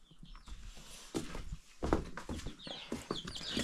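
Backyard chickens cluck and murmur softly at close range, a scattered series of short, low calls mixed with rustling and faint farmyard noise.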